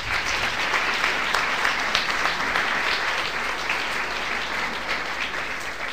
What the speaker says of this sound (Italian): al quale va il nostro applauso